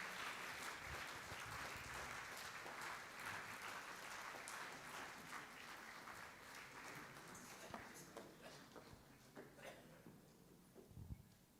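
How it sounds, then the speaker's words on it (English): Sustained audience applause at a memorial award ceremony honouring a justice, a steady dense wash of clapping from a large crowd that slowly tapers with scattered claps toward the end, heard at moderate distance. "A very big round of applause,"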